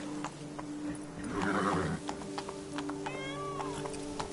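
Roach, a horse in The Witcher 3, gives a short whinny near the end, with hoof clip-clops and a steady game ambience beneath it.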